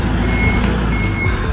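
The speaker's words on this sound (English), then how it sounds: "he's trying to maneuver his tow truck so that he can put the fork underneath my car." A tow truck maneuvers into position to lift a broken-down Nissan 180SX, its reversing alarm beeping steadily over a loud, close diesel rumble.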